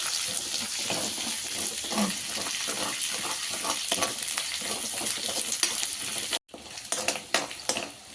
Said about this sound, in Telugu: ఆనియన్ కొంచెం ఫ్రై అయ్యాక దీంట్లోనే ఒక 1/2 టీ స్పూన్ అంతా అల్లం వెల్లుల్లి పేస్ట్ వేసుకొని